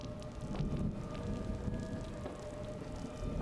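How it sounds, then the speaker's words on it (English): Steady dripping water inside a room in the video game The Lightkeeper, a continuous wash of drips and splashes at an even level with no voices. "Where's the dripping coming from?"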